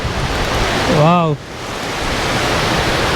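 Rushing water pours down Hidden Falls at Karumadhurai in the Kalvarayan Hills near Salem, a loud, dense roar throughout, with a brief exclaimed word spoken over it.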